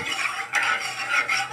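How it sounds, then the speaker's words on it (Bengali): A spoon stirs one cup of sugar dissolved in one cup of water inside a kadai on a gas stove to make syrup, giving a steady scraping and clinking against the metal, fairly close and continuous with no voices. "ভালো করে নাড়াচাড়া করে চিনি শিরা করে নিলাম"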